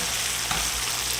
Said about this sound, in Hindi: 1 table spoon chop ginger, 1 table spoon chop garlic. इसको भी यहाँ पे फ्राई करेंगे